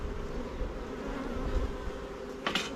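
Honeybees drone in a steady, dense, close buzz while a Flow Hive is opened for inspection, with a brief brighter rustle near the end.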